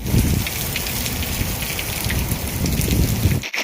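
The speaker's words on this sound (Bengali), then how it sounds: "বাইরে প্রচুর পরিমাণ বৃষ্টি হইতেছে" Steady, dense rain pours down with a constant hiss and patter, cutting off abruptly at the end.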